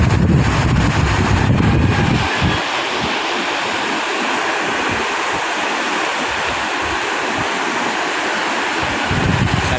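Big waves and strong monsoon wind on Manila Bay during a fishing trip, a loud, steady roar of surf and wind buffeting close to the microphone throughout, with no speech.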